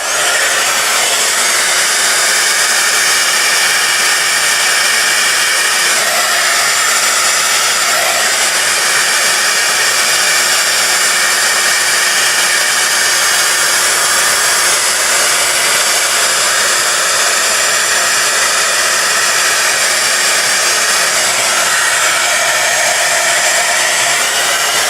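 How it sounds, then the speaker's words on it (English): A heat gun blows hot air onto an embossed snow-effect card, a loud steady whooshing roar that runs unbroken and alone throughout. "Take your heat gun ."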